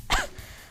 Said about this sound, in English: I cough loudly, moaning in a sickly fashion and trying to roll around.